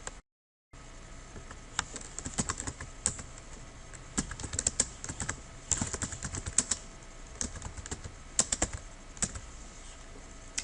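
Steady typing on a computer keyboard, quick irregular clicks of keys close by, continuing without a break for several seconds.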